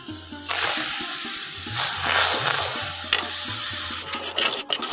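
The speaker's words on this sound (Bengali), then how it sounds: "এখন আমি কড়াইয়ের মধ্যে দিয়ে দিচ্ছি একটু জল" Water poured into a wok for palm-pulp chusi pitha, cooked in a village kitchen: a rough splashing pour in uneven bursts with scraping and a few clicks toward the end.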